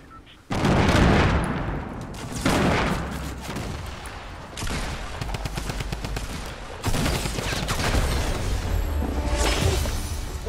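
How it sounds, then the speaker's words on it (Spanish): Dense Fortnite gunfire, sustained bursts and heavy rapid shots filling the whole stretch, loud and continuous with brief booming impacts, a few voices faintly underneath. "Hay uno disparando"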